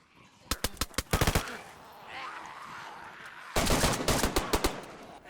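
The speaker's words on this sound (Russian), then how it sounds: "Мои 6 выстрелов не утолили нравы данного молодчика." Rapid bursts of gunfire in the survival game DayZ, two clusters of sharp shots with a brief rumbling lull between them, loud and close.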